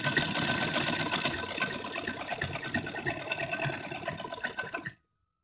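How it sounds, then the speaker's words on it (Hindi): A sewing machine stitches along the edges of stiff buckram fabric for a heavy traditional dress, a close, steady rapid mechanical whir that runs for about five seconds and then stops abruptly. "इस तरह से इसे रखिए और किनारे किनारे पर इस तरह से सिलाई चला देंगे पूरे में"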